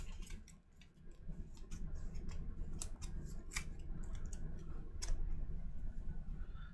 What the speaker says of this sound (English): Shuffle up our discard pile here.